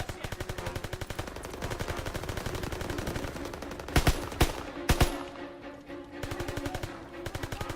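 Automatic gunfire from Call of Duty, in a level aboard an armored train: rapid machine-gun bursts crackle steadily, broken by a few louder, sharper single shots near the middle, then the rattling fire resumes.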